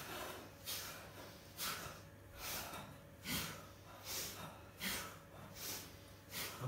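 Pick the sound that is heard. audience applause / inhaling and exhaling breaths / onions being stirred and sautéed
inhaling and exhaling breaths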